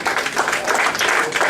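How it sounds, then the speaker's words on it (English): An audience at the Burbank Comedy Festival 2015 gives a quick round of applause. The clapping is dense and close, loud and steady, and lasts under two seconds. "please give them a round of applause"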